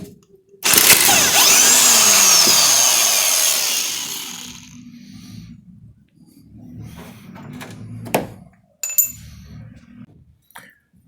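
Power tool loosening a steering box bolt on a Chevrolet Blazer/S10: a loud, sustained whirring burst of about four seconds, followed by quieter clanks and scraping of metal parts.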